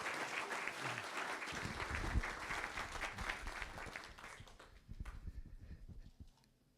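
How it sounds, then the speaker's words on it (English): An audience at an induction ceremony claps in a sustained round of applause that fades out near the end, fairly distant and moderately loud. "one more round of applause for Edward E.J."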